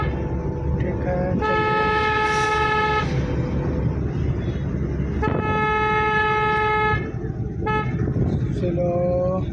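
A car horn sounds several times, two long blasts and shorter toots, during a driving lesson on an Indian road with trucks near a weighbridge, over steady engine and road noise.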